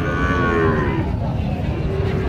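Cattle at the Panchbibi livestock market low in a long, loud, close moo that trails off against a busy outdoor background.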